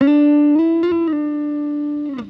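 Electric guitar playing a melodic line with short slides between notes in an R&B style, a clean sustained tone with a few quick pitch glides and a brief final note, solo and close.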